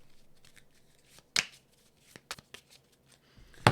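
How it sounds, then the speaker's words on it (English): A tarot deck being shuffled by hand, with a few sharp crisp riffles and snaps separated by quieter shuffling, close and dry with no talking. "I shuffled both individually"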